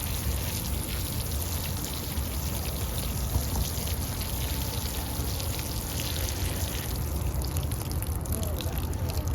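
Continuous splashing and hissing of water pouring steadily onto garden plants, dense and close, with no pauses throughout.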